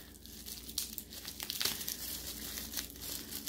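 Taped-shut packaging of an Ipsy beauty subscription bag is broken open by hand, with quiet, close crinkling and a few sharp tearing bursts of plastic and tape.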